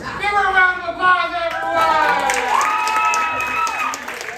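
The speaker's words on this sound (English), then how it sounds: "Give her a round of applause" Comedy improv audience at Snappers clapping and cheering for a volunteer, a broad crowd wash running under a voice that talks over it, with excited shouts near the end.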